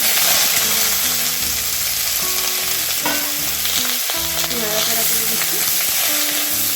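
Potato, bitter gourd and green plantain pieces fry loudly in hot oil, a dense, constant sizzle with scraping stirs, and no talk over it.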